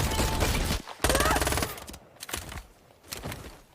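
Gunfire in an action film scene comes as loud, rapid bursts of automatic shots, several volleys broken by short pauses.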